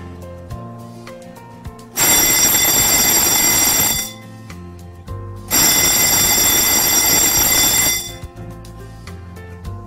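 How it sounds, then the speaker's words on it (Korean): Fire alarm bells on a fire alarm system under test, ringing loudly in two long metallic bursts of about two seconds each, separated by a short quiet gap, close and dominant. "화재 표시 등 주경종, 지구경종, 식약 경보기가 정상적으로 작동하는지를 확인합니다."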